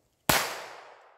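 A single sharp crack from a Taurus TX22 .22 pistol rings out close by, decaying over about a second with no voices.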